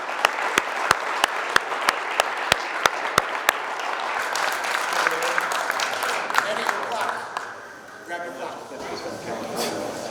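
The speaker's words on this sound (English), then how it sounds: "Let's give them one last round of applause" Sustained applause from an audience at a high school Hall of Fame induction ceremony, with sharp individual claps punctuating the first few seconds before the clapping thins and crowd chatter takes over near the end.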